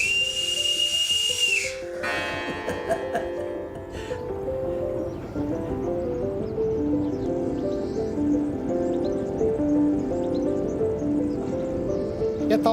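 A railway worker blows a shrill whistle in one sustained blast, followed by a sharp hissing burst, then a rhythmic clattering drive with a tonal, melodic line running through it.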